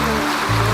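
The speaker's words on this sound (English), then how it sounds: "A waterfall of approximately 11 meters." The roughly 11-meter Cano Lejan waterfall in Meta, Colombia, in the winter season: a steady, full rush of falling water with a low rumble, continuous and close.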